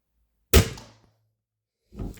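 A repeating crossbow, the EK Archery RX Cobra Adder, fires: a sharp, loud thunk of a bolt release with a short decaying rattle, then after a pause of over a second a second, softer thud begins.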